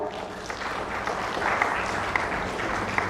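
An audience at an insurance industry summit applauds to welcome a panel, a steady wash of many hands clapping at moderate loudness, with a few sharper claps standing out.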